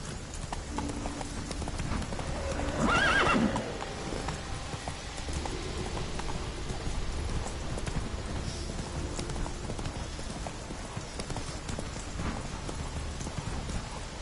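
Roach, a horse in The Witcher 3, gallops with a steady, fast clip-clop of hooves under a game soundscape, with a brief louder burst early on.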